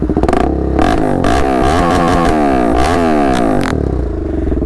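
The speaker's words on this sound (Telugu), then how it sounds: "సో డ్రాగ్ స్టార్ట్ చేసే ముందు అయితే మీరు ఒకసారి డెఫినెట్లీ సౌండ్ వినండి రెండు బైక్స్." A tuned KTM Duke 390 with an Akrapovic full-system replica exhaust revs hard and close, rising and falling in repeated blips with rasping exhaust crackle, loud and alone.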